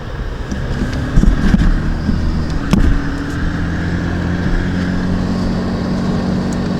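A vehicle drives slowly on a winter overlanding camping trip in cold weather, a steady low engine rumble with wind buffeting the microphone and a couple of brief bumps.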